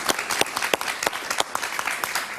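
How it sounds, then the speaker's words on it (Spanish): Studio audience applauding a senator on a Spanish-language evening talk show, a dense burst of claps with sharp individual hand strikes standing out, steady and fairly close throughout. "un aplauso para ella."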